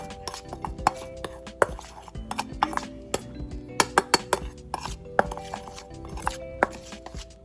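Pork being mixed by hand with salt, black pepper and garlic powder in a bowl, producing irregular clinks and scraping knocks against the dish, close and fairly loud with no talking.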